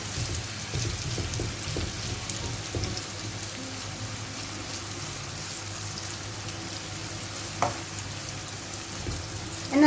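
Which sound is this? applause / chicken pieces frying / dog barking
chicken pieces frying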